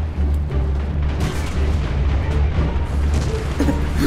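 Tank cannon fire in War Thunder, with a T-34 and a Sherman in the battle, heard as a constant loud rumbling barrage of booms and blasts across the whole stretch, with no clear pauses between them.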